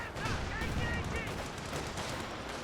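Dense, noisy battle din from the video game Company of Heroes 2, with a Cromwell tank firing amid overlapping explosions and gunfire, busy and loud throughout the short span while a commentator talks over it.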